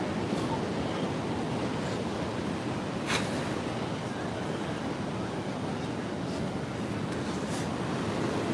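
Large, lumbering ocean waves break continuously at Carmel Beach, a steady broadband roar of surf heard from a distance with some wind noise and a brief louder crash near the middle.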